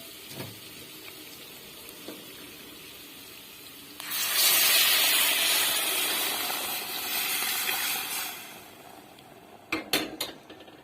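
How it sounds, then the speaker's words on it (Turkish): A liter of hot water pours into a pot of Nigar soup, a loud steady rushing hiss lasting about four seconds, followed by a few sharp clanks of pots and utensils, close with no talk. "Bir litre de sıcak su dökeyim"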